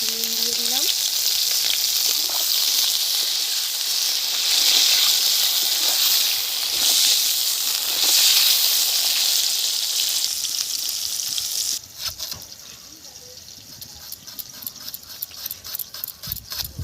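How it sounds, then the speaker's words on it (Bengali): Strips of eggplant fry in hot oil in a kitchen pan, a loud continuous sizzle and crackle that fills the first stretch, then thins into quieter, spattering bursts toward the end. "এখন আমি তেল দিয়ে দিচ্ছি। বেগুনগুলো ভেজে নেব।"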